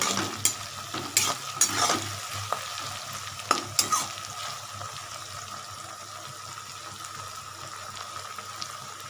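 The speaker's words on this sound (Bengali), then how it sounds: "এবার মাংসটা দিয়ে দেবো।" Chicken pieces fry and are stirred in a pan with fried onion and garlic: sharp scraping clatters of a spoon come in the first few seconds, then a steady, close sizzle continues alone.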